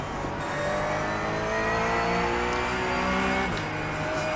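Porsche Cup race car accelerating hard on the track at Virginia International Raceway, a loud steady engine note with rising harmonics that drops briefly near the end as the gear changes, no talk.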